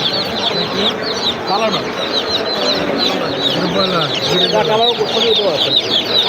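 Provita group chicks at a poultry expo in Bangladesh, a dense crowd of high cheeping chirps overlapping constantly, with clucking hens and faint voices mixed in the busy hall.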